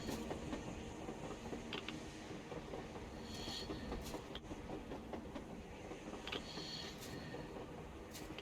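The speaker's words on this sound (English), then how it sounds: "A train! A damn train on the surface!" A train in the video game Metro Exodus rumbles along steadily with rhythmic clanking and occasional high metallic squeals, a continuous rolling noise filling the whole stretch.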